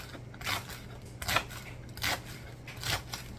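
A knife slices through rolled-up collard greens in four evenly spaced, crisp crunching cuts at a soft, close level against a quiet background.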